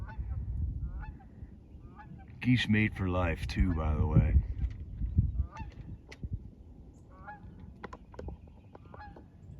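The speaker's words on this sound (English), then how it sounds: "Here comes a little group of them. I love how they fly in formation." A small group of geese flies over in formation, honking loudly in a dense burst in the middle, with scattered fainter calls before and after, while a person talks nearby in a breezy Maryland natural area.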